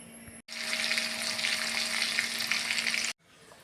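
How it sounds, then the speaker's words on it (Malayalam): Whole green chillies fry in hot oil without any batter, making a loud, steady sizzle that lasts nearly three seconds, close by, with brief quiet gaps at the start and end. "ഞാൻ മാവിലൊന്നും മുക്കണില്ല കേട്ടോ ഇങ്ങനെ തന്നെ പൊരിച്ചെടുക്കണുള്ളൂ"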